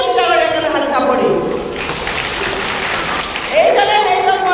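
A crowd at a ration card distribution event for a newly formed constituency claps for a minister, with a short burst of applause that sits under and between someone speaking into a microphone.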